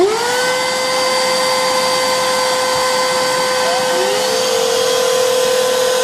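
Several BLACK+DECKER BDH2000PL handheld vacuums lined up for a Cheerio pickup test switch on, producing a steady, loud high-pitched motor whine, with a second unit spinning up and joining partway through.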